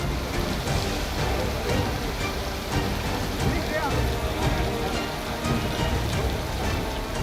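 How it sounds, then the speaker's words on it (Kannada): Heavy rain falls in Dharwad district, a dense, steady hiss of drops on surfaces beneath a voice talking throughout. "ಇಲ್ಲಿ ಧಾರವಾಡ ಜಿಲ್ಲೆಯಲ್ಲೂ ಗುಡುಗು ಸಹಿತ ಭಾರಿ ಮಳೆಯಾಗಿದೆ"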